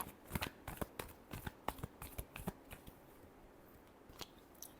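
Tarot cards being shuffled in a Hindi tarot reading, a quick run of crisp riffling snaps and flicks, close and fairly quiet, with no talking over it.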